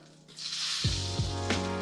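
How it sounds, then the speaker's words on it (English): Oil or butter sizzles hard in a hot pan, a loud continuous hiss that swells suddenly and stays bright and steady, with a low hum underneath. "So the more it sizzles like that, the hotter it's getting."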